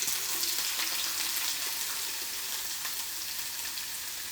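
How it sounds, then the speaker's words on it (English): Onions and peppers sauteing in a pan over dry heat, a steady close hiss of frying that stays even and continuous throughout, with no voices over it. "So I'm gonna saute some onions and some peppers."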